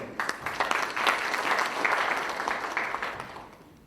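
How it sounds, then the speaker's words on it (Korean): A political party training gathering of local government heads applauds to welcome a speaker, the clapping swelling quickly, holding steady and then tapering off over the final second. "박수로 맞아주십시오"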